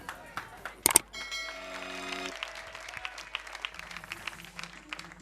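Audience applause on an Indonesian TV variety show, a sharp burst of claps near the start giving way to a steadier crowd clapping with some sustained musical tones and faint voices underneath.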